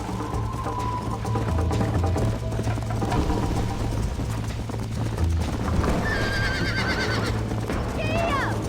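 Hooves clip-clop at a steady gallop under a horse's whinny in the Red Dead Redemption video game, with a voice speaking over the running horse.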